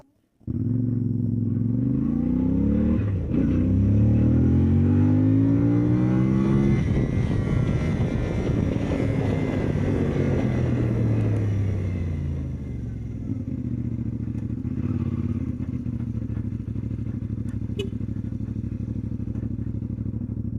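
A CFMOTO Ibex 450 trail motorcycle pulls away, its engine revving up through rising and falling gear sweeps, loud and close, then settling to a steadier drone.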